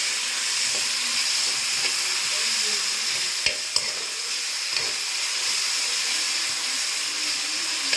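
Tomato tempering light-frying in a pan gives a steady, close sizzle and hiss throughout, with a few faint stirring clicks.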